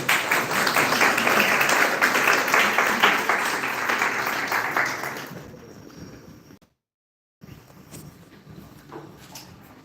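Audience applause at a dental college event, a dense, loud patter of many hands for about six seconds before fading out, then a brief gap and quieter room sounds.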